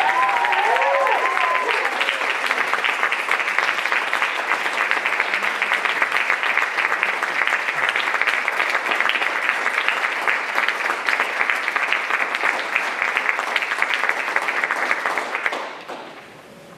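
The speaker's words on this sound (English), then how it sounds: "So I'm going to ask that we now give a round of applause for all of our great" Audience applause at the SMTD Diversity, Equity, and Inclusion Awards ceremony: dense, sustained clapping from a full room that holds steady for about fifteen seconds, then quickly dies away.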